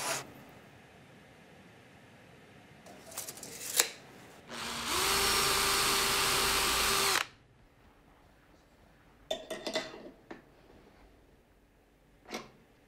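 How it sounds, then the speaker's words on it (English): A power drill pre-drills a hole in attic stairs, whining steadily for about two and a half seconds, loud and close, with scattered handling knocks before and after. "we're going to drill a hole that's in line with the back end of screws"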